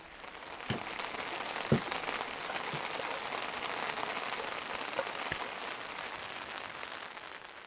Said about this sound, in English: a little thunder in the distance, a little rain